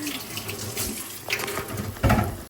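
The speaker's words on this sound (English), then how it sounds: "I'm gonna wash my hands." Water runs steadily from a kitchen tap while hands are washed, a close, continuous splashing hiss with a brief louder gush near the end.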